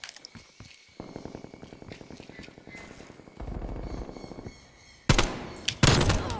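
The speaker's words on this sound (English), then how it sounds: "I'm using the AK again." AK rifle fire in Black Ops Cold War, set in a jungle map: rapid bursts of automatic shots rattle over steady game ambience, growing louder and sharper near the end with close, heavy cracks.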